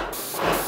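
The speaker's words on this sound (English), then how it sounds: "Release the safety catch and give it a test spray into a bucket" Wagner Control 150 M airless paint sprayer firing a test spray of water into a bucket, a steady close hiss of spray lasting under a second.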